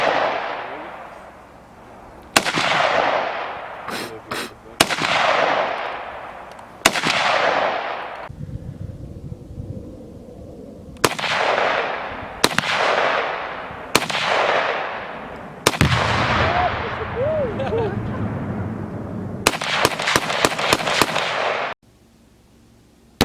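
Tannerite blasts blowing up pumpkins, a series of sharp, powerful explosions, some single and some in quick clusters, each followed by a long rumbling echo rolling off into the distance.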